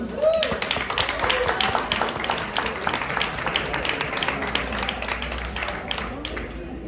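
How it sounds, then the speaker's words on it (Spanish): Audience applause at a poetry cabaret, steady, dense clapping from a crowd that holds at an even level for several seconds with no one speaking over it. "Un bon aplaudiment!"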